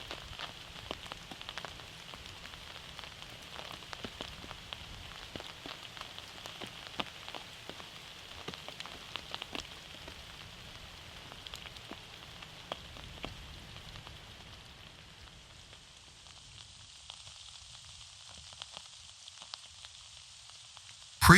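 Heavy rain falling in open countryside during the red deer rut, a dense steady patter of drops on the ground and foliage, fairly quiet and continuous, fading off near the end.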